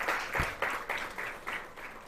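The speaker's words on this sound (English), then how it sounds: "Another round of applause for our chief guests." An audience applauds guests of honour at the launch event for a 2025 manufacturing agenda, a soft, distant patter of many hands clapping in a steady, slightly pulsing wash.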